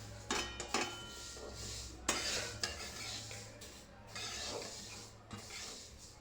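Home-grown sesame seeds dry-roasting in a pan for ladoos, stirred with a spoon that scrapes and clinks against the metal in irregular strokes over a soft sizzle, close by with no speech.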